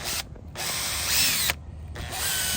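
A power drill bores through glued wood on a wooden toy bulldozer, whirring in two close bursts with a brief pause between them, with no voice.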